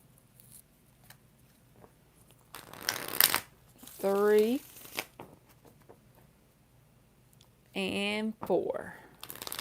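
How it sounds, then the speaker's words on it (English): Tarot cards riffled and shuffled in two short bursts, each a quick run of crisp flutters at close range, with someone talking between them. "We're going to do 4 shuffles."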